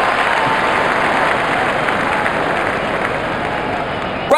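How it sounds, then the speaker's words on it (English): A cricket video game crowd roars in a stadium after a catch, a loud, dense, continuous wash of cheering and clapping that holds steady and close before a brief sharp sound at the very end. "Crowd is going crazy."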